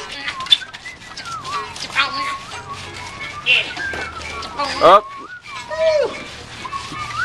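Several people whistle in short, sliding bursts amid lively chatter and shouts, the whistles rising and falling irregularly nearby.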